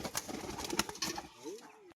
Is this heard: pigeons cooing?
yes